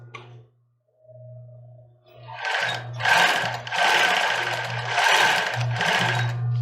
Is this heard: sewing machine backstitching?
yes